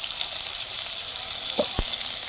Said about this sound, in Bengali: একটুখানি ভেজে নিচ্ছি ভালো করে